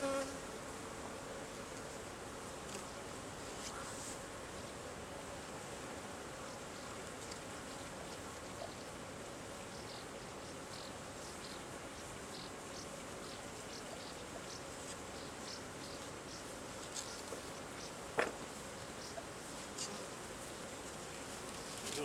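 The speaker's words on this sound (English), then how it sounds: "I'm alright with them buzzing around like this, but it's normal." Swarm of honeybees buzzing around an open hive during comb removal, a continuous dense hum with individual bees passing close by now and then.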